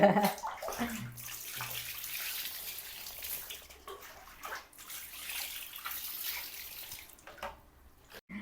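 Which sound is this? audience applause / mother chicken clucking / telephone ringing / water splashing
water splashing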